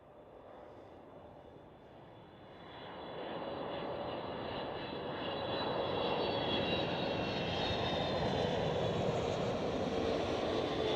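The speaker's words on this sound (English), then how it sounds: "next one up is a 777? Yeah, 777." A KLM Boeing 777 at Amsterdam's Schiphol airport gives a steady jet-engine roar that builds over the first few seconds, then holds loud and broad, heard from a moderate distance with no voices.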